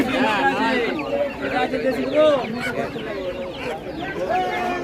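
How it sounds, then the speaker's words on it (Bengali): Desi fighting chickens at a village haat in Mayapur cluck and call close by, their voices rising and falling over a busy market din with people talking throughout. "এই মুরগিগুলো তো লড়াইয়ের মুরগি"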